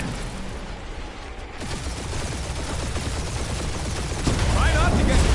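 Gunfire crackles through an aerial dogfight in a video game, a dense continuous stream of rapid shots and engine roar that swells louder near the end.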